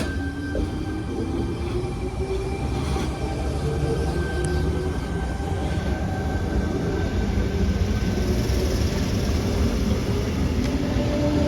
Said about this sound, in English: the train now arriving into platform 3 is my train